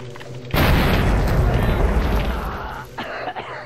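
A grenade goes off in the video game STALKER: Shadow of Chernobyl, a single loud, deep boom with a long rumbling tail, while someone talks before and after it.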